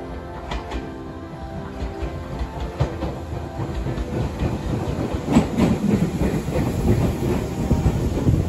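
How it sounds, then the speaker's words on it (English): A Japanese commuter train rumbles along the rails with rhythmic clacking and a steady roar that grows slightly louder, heard close up from inside the car with no voices. "And as expected, the train was right on schedule."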